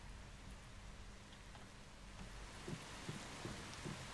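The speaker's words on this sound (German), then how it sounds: "Guck mal, es regnet hier komplett." Rain pouring in the video game Once Human, a steady hiss of falling rain with scattered heavier drops and soft low rumbles near the end.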